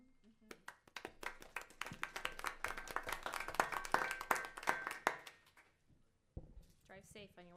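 Scattered audience clapping at a county school district board of education public meeting, a modest group applauding for several seconds before it fades, with talk afterward.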